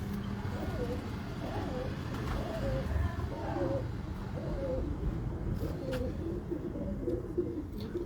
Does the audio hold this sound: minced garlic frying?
no